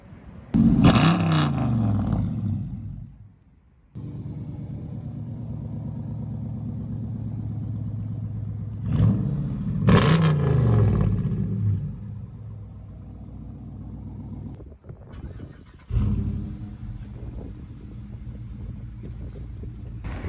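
A black Dodge Challenger RT with an 8-cylinder engine revs loud and close in two strong bursts, with a steady rumbling idle between them and a further rev near the end, wind buffeting the microphone throughout.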